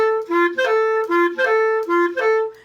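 A brass-like instrument plays a short repeated three-note figure with slight fumbled blips between notes, clear and close, with no talk over it.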